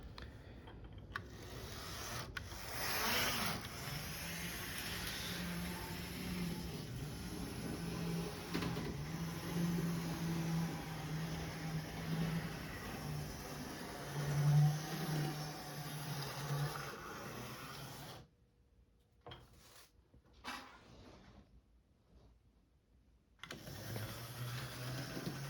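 An antique model train runs on its track with a faint whirring, humming motor drone and light rattling, fading out briefly before the hum returns near the end.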